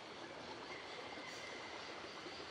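Steady train noise in the video game Syberia, a continuous broadband rumble and hiss of rolling carriages holding evenly throughout, with no talk.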